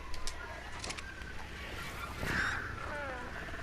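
Ichthyornis seabirds call in ARK: Survival Evolved with short honking, squawking bird calls over a game ambience. The cries rise and fade over a few seconds at a moderate distance.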